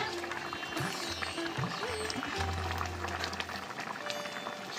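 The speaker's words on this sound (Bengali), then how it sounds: "দেখো টকবক করে ফুটছে ঝোলটা।" Fish curry bubbling steadily in a pot on a home stove, a continuous soft simmering hiss with low gurgles, fairly close, alongside other faint kitchen noise.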